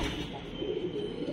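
A kept domestic pigeon gives a soft, low coo, faint and brief, over a steady background hum.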